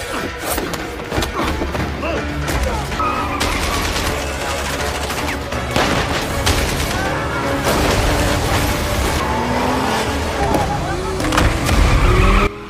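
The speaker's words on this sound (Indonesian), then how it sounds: "Aksi kejar-kejaran pun terjadi di sini" Cars race in a movie chase, tires squealing and skidding amid engine roars, thumps and bursts of gunfire, loud and continuous, with a narrator speaking over the action.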